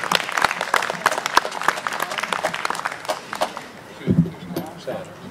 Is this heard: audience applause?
yes